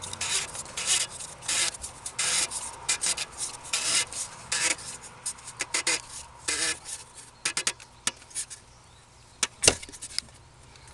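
An oil filter is threaded by hand onto a Dodge Journey engine during an oil change, producing close, repeated scraping and rubbing strokes that thin out into sparse scuffs and a sharp knock near the end.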